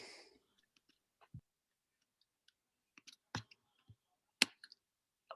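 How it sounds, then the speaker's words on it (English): Sparse keyboard typing picked up on a laptop microphone during an online student senate meeting, with scattered isolated key clicks and short bursts separated by long silent gaps, faint and close. "you're typing"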